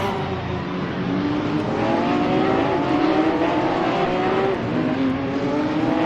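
Porsche 911 GT3 Cup 2017 race cars at Laguna Seca in Assetto Corsa, a loud steady engine drone with rising and falling revs as several cars run close together along the track, without any speech.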